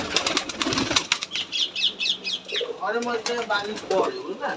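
Rajshahi Giribaz pigeons flap their wings in quick, loud bursts close by, with soft cooing and chirps between and someone talking over the birds.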